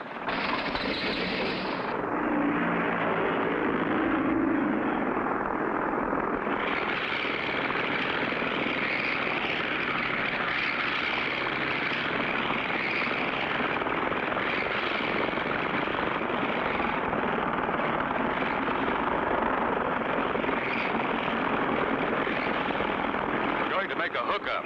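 A propeller airplane engine starts up and runs in an old animated cartoon, a loud, steady droning roar that rises after a few seconds and holds throughout, with voices speaking over it.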